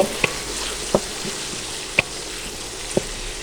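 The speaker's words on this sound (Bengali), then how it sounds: "নেড়ে চেড়ে আলুগুলোকে ব্রাউন কালার করে ভেজে নেব" Potato pieces with turmeric and chili powder fry in hot oil, giving a steady broad sizzle with a few sharp clicks of stirring spaced about a second apart.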